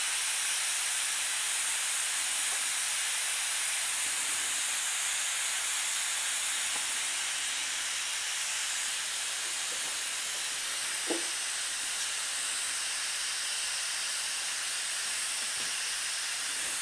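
An Instant Pot pressure cooker cooking pumpkin for puree vents its steam pressure in a steady, broad hiss that runs unbroken for about seventeen seconds, with a faint tap partway through.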